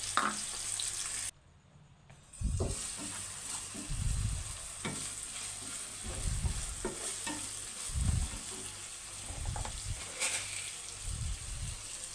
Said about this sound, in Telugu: నెక్స్ట్ అవి ఫ్రై అయిపోయాక అందులో సన్నగా తరిగిన ఆనియన్స్ని కూడా వేసుకోవాలి